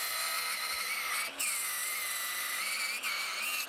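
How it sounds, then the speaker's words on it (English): An angle grinder grinds the welds flat on the bottom of a Razor scooter swing arm, a loud, steady high-pitched whine with two brief dips in pitch as the disc bites. "we are going to grind the welds on the bottom flat"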